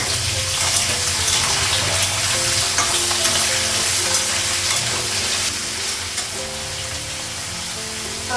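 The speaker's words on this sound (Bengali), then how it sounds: "তেজপাতা দিলাম, কাঁচা লঙ্কা, শুকনো লঙ্কা দিলাম, পাঁচফোড়ন দিলাম" Bay leaf, green and dried chillies and panch phoron frying in hot oil in a home kitchen, a loud, steady, close sizzle that holds without pause and eases slightly toward the end, with no voices.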